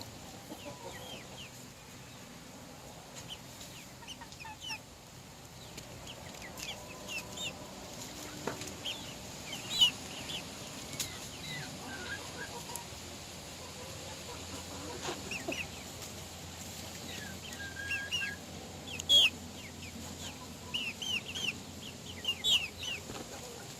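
Chickens and young chicks, including light Sussex hens, cluck and peep softly around a coop, with scattered short calls rising over a steady quiet background.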